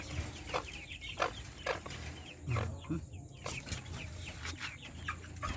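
Brahma chickens cluck and murmur nearby on a farm in a run of short, irregular calls over a steady outdoor background.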